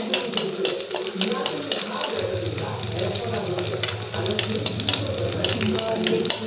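Food fries in a pan for a home-cooked Sunday meal of mutton biryani and curries, giving a steady, close sizzle throughout, with a low hum entering partway through.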